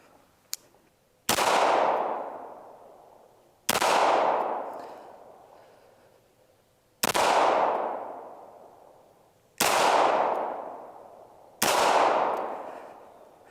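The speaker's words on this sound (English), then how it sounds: "Now back to back, trying the Staccato P." Five sharp Staccato P 2011 pistol shots ring out at a shooting range, each a loud crack followed by a decaying ring, spaced a couple of seconds apart, with a faint tick before the first.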